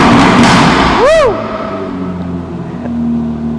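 Aston Martin V12 Speedster engine revved once in a loud, near rising-and-falling blip, with a different exhaust note from the DBS, then settling back to a steady idle rumble.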